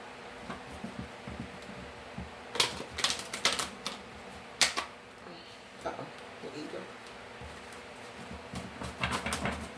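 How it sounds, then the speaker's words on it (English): Cards riffle and snap in quick rattling bursts, close by, with soft clicking and faint room noise between shuffles. "now I gotta do 7 shuffles"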